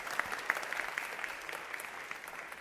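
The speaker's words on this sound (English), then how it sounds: "Can we please give them a round of applause?" A faint, distant audience applauds at a birthday celebration, the clapping steady and diffuse for a few seconds.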